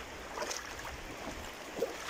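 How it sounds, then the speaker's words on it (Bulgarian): A strong river current rushes in a steady, soft broadband wash at a gold-panning spot, with no voices over it. "Реката горе-долу става за работа, леко е силна водичката."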